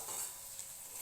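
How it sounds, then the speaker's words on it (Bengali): Mushrooms stir-fried without water in a pan, giving a faint, steady sizzle and soft stirring hiss that runs continuously and alone through the short moment. "আমার এই মাশরুমটা কষতে কষতে দেখো রান্নাটা প্রায় হয়েই গেছে।"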